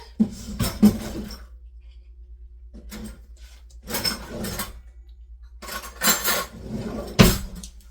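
Metal cutlery clinking and rattling while a spoon is fetched in a home kitchen, several close bursts of clatter separated by quiet gaps, no talk.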